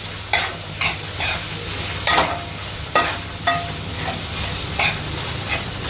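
Onions frying in a pan for a wheat-flour samosa filling, a steady sizzle with several sharp clinks of a spoon stirring against the pan at irregular intervals, close and moderately loud, no talk.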